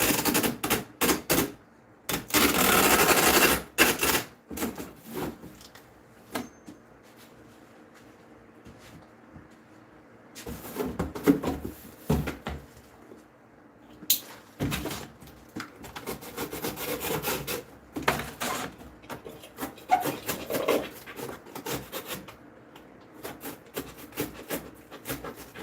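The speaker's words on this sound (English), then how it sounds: "I'm gonna tape this box up and then cut a little piece." A cardboard box is taped up with a long loud screech of tape pulled from the roll, followed by scattered rustling, crinkling and cutting noises at close range, with no talking.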